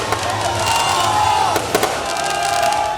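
Huge political victory rally crowd in Karachi roaring and chanting continuously while fireworks crack and pop in short bursts, loud and dense throughout.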